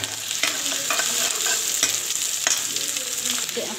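Chopped onions frying in hot oil with cumin, a steady close sizzle broken by scraping stirs and light clinks, with no voices.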